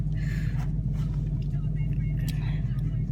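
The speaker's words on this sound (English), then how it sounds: "And I'm in the car, my Mustang." Steady low drone of a Ford Mustang's engine heard from inside the cabin, a constant rumble running under intermittent talk.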